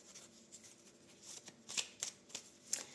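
A 32-card deck of playing cards gets shuffled, soft riffling rustles building to a few crisp flicks and snaps, close but quiet, with no talking.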